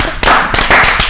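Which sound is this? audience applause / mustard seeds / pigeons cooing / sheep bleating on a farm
audience applause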